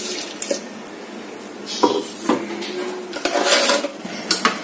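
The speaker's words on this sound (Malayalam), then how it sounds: "നമ്മൾ കുറച്ച് വെള്ളം കൂടി ഒഴിച്ച് അരപ്പ് കലക്കി ഇതിലേക്ക് ഒഴിക്കുകയാണ്." Ground paste mixed with water being poured into a pressure cooker in a home kitchen, giving soft watery splashes and pan clatter in several short bursts, close and moderately loud, with no talk.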